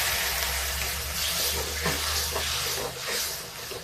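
Milk is poured a little at a time into rice in a pot, making a steady close liquid pouring and bubbling wash with a low hum underneath and no talking.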